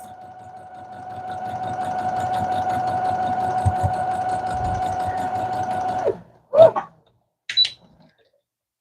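A sewing machine stitches a quilt border piece with a steady, fast mechanical hum and needle rattle for about six seconds, then stops, followed by a few short clicks and whirs.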